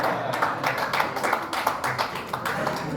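An audience at a speech by the East Kalimantan vice governor claps in a brisk, uneven rhythm of bursts across the whole stretch, fairly close, with no talking over it.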